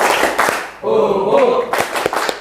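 A classroom group claps an ice-breaker rhythm, with sharp hand claps at the start and end. Between the claps the group chants short shouted words together.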